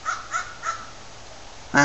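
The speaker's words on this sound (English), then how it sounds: "Wow, that's a crow." A crow caws outdoors on a snowy winter day, three hoarse calls evenly spaced at a moderate distance, followed by a brief louder harsh sound at the end, with no talk.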